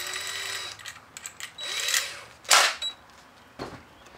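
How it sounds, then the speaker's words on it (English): A cordless drill with a small step bit whines as it bores a pilot hole in the housing of a 6.5L diesel engine's PCM, in short close bursts of high motor buzz and grinding bit noise, with no talking. "I'm going to start with a smaller step bit first, just to drill a pilot hole."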